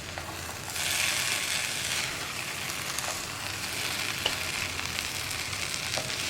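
Vanpayar thoran, red cowpea stir-fry, is stirred in a frying pan over a lit flame, a steady hiss of cooking with light scraping and occasional clicks of the spoon.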